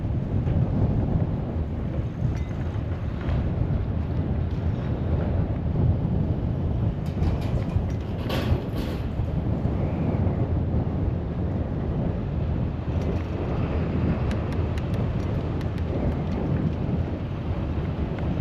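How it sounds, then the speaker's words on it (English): Strong, steady wind buffets the microphone during a ride along a bike path on a very windy day, a continuous loud low roar with no pauses, close and dominating throughout. "there's always wind noise up there when I'm riding"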